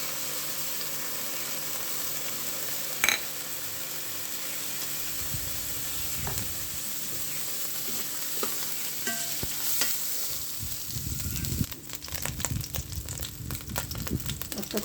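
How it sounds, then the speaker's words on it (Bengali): Garlic and dried red chilies frying in mustard oil, a steady quiet sizzle with a sharp tap early on, then bursts of crackling and stirring scrapes building toward the end. "এখন একটু সরিষার তেল দিয়ে দিব। তেলের মধ্যে একটু রসুন,"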